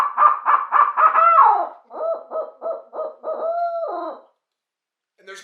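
A voice imitates an owl for turkey hunting, giving two loud, close series of rhythmic hoots that end in a drawn-out, falling call, followed by a short pause.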